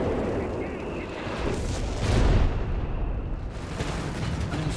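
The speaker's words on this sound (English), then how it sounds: "Got the Bishop there counter-battering the Italian howitzer" Distant booming artillery as a Bishop self-propelled gun counter-batters an Italian howitzer in Company of Heroes 3, with rumbling blasts under a commentator's voice.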